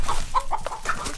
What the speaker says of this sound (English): the chicken that just got out